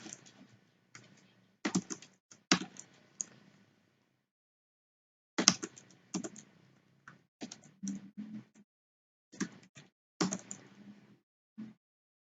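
Keys clack on a computer keyboard during JavaFX programming work, in several quick bursts of close, crisp typing separated by short pauses, with no voices.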